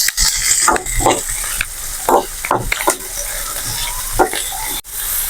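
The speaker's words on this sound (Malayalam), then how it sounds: "ഒരു ബ്രൗൺ കളർ ആവുന്നത് വരെ നമുക്ക് ഇളക്കി കൊടുക്കാം" Chopped onion and green chillies sauté in a pan for a cauliflower curry, stirred in quick, close scraping strokes over a continuous crackling sizzle.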